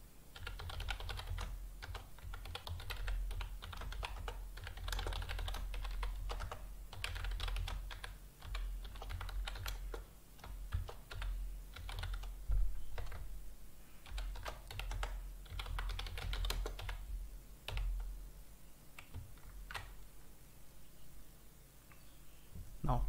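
C code for a hello world program is typed on a computer keyboard in a long, steady run of close, brisk key clicks with brief pauses.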